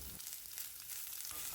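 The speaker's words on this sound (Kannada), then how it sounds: "ಸುಮಾರು 1 ನಿಮಿಷದಷ್ಟು ಎಣ್ಣೆಯಲ್ಲಿ ಇದನ್ನು ಹೀಗೆ ಫ್ರೈ ಮಾಡ್ತಾ ಇದ್ದೀನಿ." Two medium-sized onions, finely chopped, frying in a hot oil tempering for a paratha filling; a steady close hiss and crackle runs throughout with no talking.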